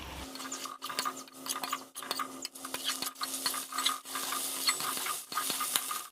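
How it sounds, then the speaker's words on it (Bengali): Fried potatoes and soy chunks get stirred into a spiced masala in a pan, giving repeated scraping strokes of a spoon with a soft sizzle underneath, close and steady. "এবার আমি ভেজে রাখা আলু আর সয়াবিনটাকে দিয়ে দিচ্ছি।"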